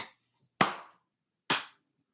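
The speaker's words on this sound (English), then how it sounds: "We gotta give us a nice clap over there." Sharp hand claps made to sync podcast audio: a soft, scrappy rustle, then two crisp separate claps close to the microphone about a second apart, each snapping loudly and decaying quickly into silence.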